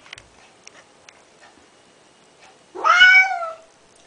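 A cat being bathed lets out one loud, drawn-out meow near the end, following a stretch of faint ticks and small splashing sounds.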